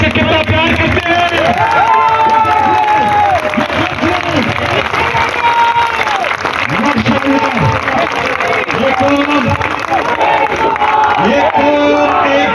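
A large crowd at a Pakistan Tehreek-e-Insaf (PTI) protest rally in Peshawar claps and cheers loudly and continuously, with whoops and shouted chants rising over the applause.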